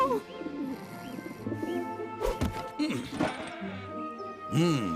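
Low pigeon coos rise and fall repeatedly amid a cluttered mix of other sounds and music-like tones.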